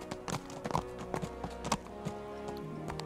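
Horse hooves clip-clop in the medieval role-playing game Kingdom Come: Deliverance, a handful of irregular thuds as the mount shuffles and backs up, set against a steady game music bed with no talking.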